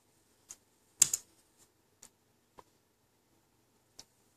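A few sparse, quiet keystrokes on a computer keyboard, with one short cluster of taps and then isolated single clicks spaced apart, as commands are copied and pasted while unbricking an HP TouchPad.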